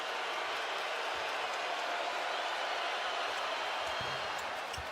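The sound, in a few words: basketball crowd reacting to a missed free throw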